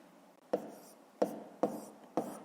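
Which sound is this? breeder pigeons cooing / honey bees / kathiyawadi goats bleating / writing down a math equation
writing down a math equation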